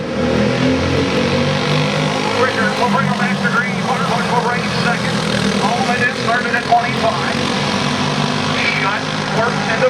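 Go-kart engines race at Penns Creek Raceway, a dense, continuous buzzing drone that rises and falls as karts pass, with a race announcer talking over a public address system throughout.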